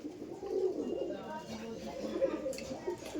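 Andhra pigeons coo softly in a loft, low throaty murmurs repeating under faint background chatter and room noise.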